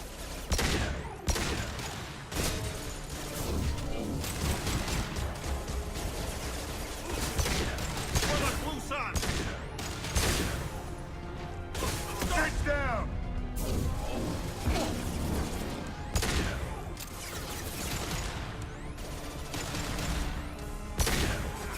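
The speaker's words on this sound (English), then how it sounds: "Watch where you're shooting. Taking cover. Taking direct fire." Dense gunfire from the Mass Effect 2 video game, with rapid bursts, crashes and impacts filling the whole stretch, while in-game voices call out over the shooting.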